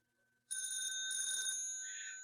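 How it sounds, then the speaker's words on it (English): Telephone bell rings out loud and sustained, a bright electric trill starting abruptly after a moment of quiet and continuing steadily to the end. "the phones were ringing again all over Greendale"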